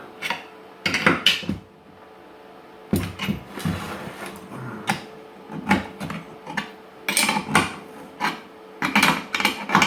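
An 11/16 wrench tightens the nut on a motor mount for an R2 droid's outer foot drive assembly, giving bursts of close metallic rasping and clicking that come in irregular groups with short pauses between them.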